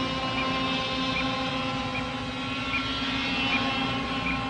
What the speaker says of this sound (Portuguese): É a hora da última experiência com o helicóptero controlado por rádio sob essas condições.